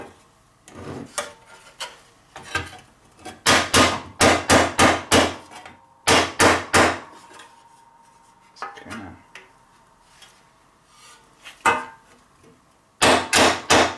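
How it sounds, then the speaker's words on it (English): Sharp metallic hammer blows on a makeshift anvil while repairing an old weathered junk lawnmower, struck in quick bursts of several hits with pauses between, loud and close. "This is going to be my anvil for right now."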